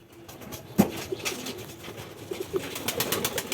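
Giribaj pigeons coo on a Bangladeshi rooftop loft, with a loud close coo near the start and softer cooing and fluttering bird calls after it, and no talking.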